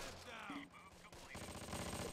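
Infantry gunfire in the Close Combat war game, a dense crackle of rifle and machine-gun fire in a continuous rattling volley, with game voices and effects mixed in.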